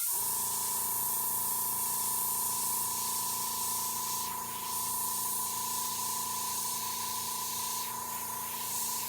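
Airbrush spray gun painting figure 8 dapples on a liver chestnut horse figure, a continuous close hiss with a steady whining tone underneath, briefly dipping twice as the spray pulses.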